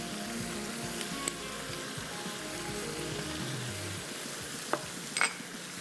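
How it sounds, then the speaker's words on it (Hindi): Spices for kunna paya, including turmeric, cumin powder, crushed coriander and ground red chilli, fry in a pan with a faint, steady sizzle and a few soft clinks of stirring, close and without talk. "इसको थोड़ा सा भूनेंगे"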